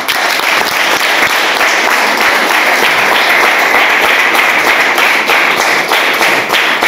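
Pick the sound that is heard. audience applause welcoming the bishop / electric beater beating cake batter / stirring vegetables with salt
audience applause welcoming the bishop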